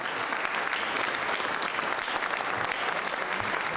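Dense, sustained applause from a crowd of lawmakers in the House of Representatives following a unanimous vote, a steady wash of many hands clapping at close range with no break.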